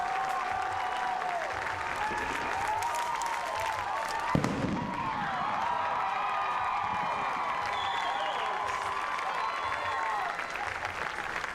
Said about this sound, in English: The fireworks go off at Dozer Park.